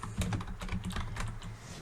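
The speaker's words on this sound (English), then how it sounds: "So you just start typing the name" Rapid typing on a computer keyboard while entering names into a spreadsheet, a quick irregular clatter of key presses heard close up, alone and fairly quiet.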